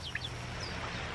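Faint clucks from chickens at a compost pile come through over a steady low background rumble.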